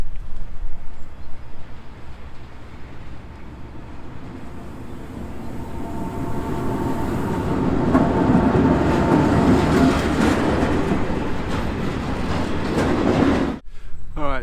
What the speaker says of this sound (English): just got stopped at this little railway crossing because there's a goods train coming very